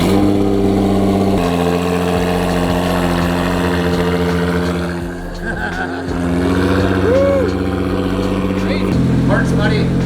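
A Nissan GT-R with a Linney drag exhaust on a fresh tune runs loud and close, deep steady idle broken by blips and a brief dip, with faint voices in the background.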